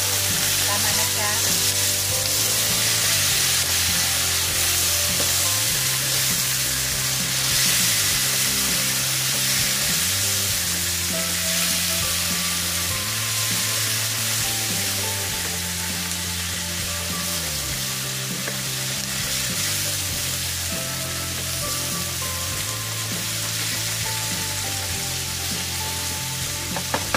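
Tender pre-boiled beef for a coconut-milk kaldereta with peanut butter is added to a pan with tomato and fries, a loud, steady sizzle running throughout with a few stirring scrapes and no talk.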